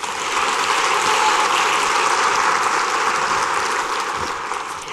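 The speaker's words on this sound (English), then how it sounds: "Can you give them another round of applause?" Crowd applause at a county fair queen pageant, a loud, dense wash of clapping that swells and holds for nearly five seconds before tapering slightly.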